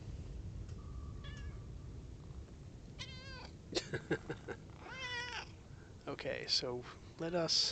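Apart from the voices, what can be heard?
cat meowing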